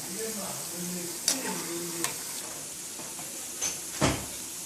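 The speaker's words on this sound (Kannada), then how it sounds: "ವಡೆ ಬೇಯ್ತಾ ಇದೆ." Chana dal vadas fry in hot oil with a steady soft sizzle, broken by a few sharp clinks and scrapes of a utensil against the pan.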